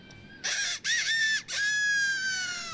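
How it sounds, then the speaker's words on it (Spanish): A rooster gives one loud, close crow, broken into three strained segments, with the last note drawn out and fading. "El gallo."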